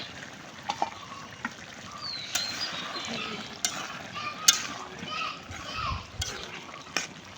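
Bori lentil dumplings cooking in a pan outdoors on a sunny day, faint sizzling with scattered clinks of stirring and a few sharp taps, while children's voices sound in the background.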